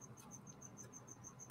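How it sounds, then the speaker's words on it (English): Pet crickets kept alongside isopods give a steady, rapid high-pitched chirping, about ten evenly spaced chirps in a row, faint and continuous over a low background hum with no talking. "I don't know if you guys can hear my crickets right now"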